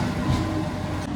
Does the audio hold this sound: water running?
no